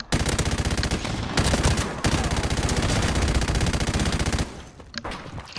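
Long sustained automatic bursts from an M249 SAW light machine gun in Call of Duty 4 Remastered, rapid dense rattling with a brief break, loud and close, ending in a few trailing shots.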